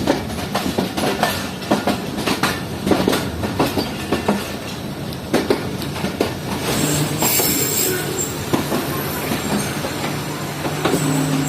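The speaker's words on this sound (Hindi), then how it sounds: "फाइनली ट्रेन हमारी रुक गई है शादराबाग जंक्शन रेलवे स्टेशन पर।" A passenger train rolling into Shadrabagh Junction railway station in rainy weather, wheels clacking and squealing steadily as it slows to a stop, loud and close.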